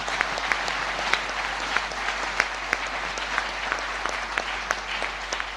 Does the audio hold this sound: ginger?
no